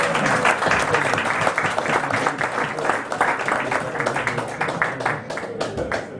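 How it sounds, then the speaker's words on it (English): Guests applauding at an 80th birthday party, steady and fairly close clapping with a roomy crowd sound, continuing evenly throughout. "Give him a big round of applause."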